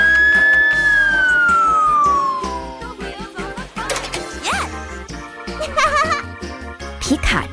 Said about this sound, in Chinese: 消防车。